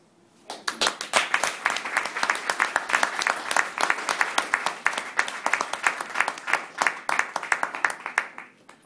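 A debate-final audience breaks into dense, sustained applause, many hands clapping close together for several seconds before tapering off at the end.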